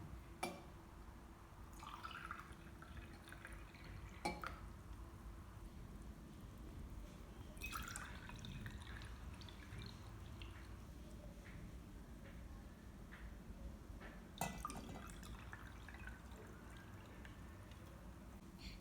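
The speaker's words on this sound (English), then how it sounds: "first we have to pour water in these 4 glasses" Water is poured into four glasses for DIY floating-candle decor: faint, quiet trickling and dripping with a few brief splashy spurts, close by and without speech.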